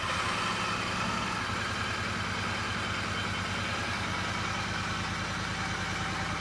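A Royal Enfield Interceptor 650 motorcycle engine idles steadily, a continuous low even rumble heard up close with no talk.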